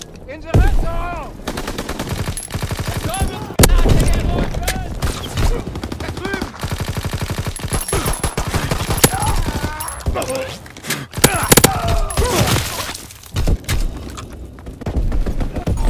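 Machine guns fire in a World War II video game, with rapid bursts that start and stop throughout and a few heavier thuds mixed in. Game voice lines are heard between and over the gunfire.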